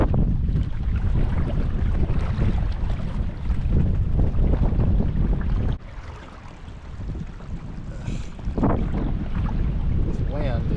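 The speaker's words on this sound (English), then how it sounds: "This wind is a pain in the butt." Wind blasts across open water during kayak trolling, a heavy low roar of microphone buffeting that eases briefly midway before gusting back, with faint splashing against the hull.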